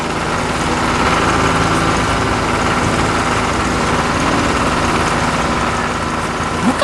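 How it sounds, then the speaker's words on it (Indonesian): A red tractor works nearby, tilling soil, its engine giving a steady, loud, continuous rumble with no letup. "sang traktor merah mulai bekerja, membelah tanah dengan penuh semangat."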